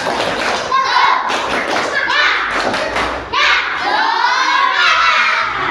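Children in a classroom perform a rhythmic clapping chant, with loud repeated claps and thumps under shouted young voices throughout, close and busy.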